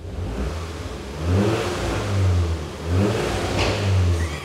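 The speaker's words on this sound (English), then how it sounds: "That ticking noise is pretty much the exact amount of tick you want." A rebuilt VW Scirocco R TFSI engine running close by, its steady hum swelling in slow waves as it revs, with faint light ticking beneath and no voices.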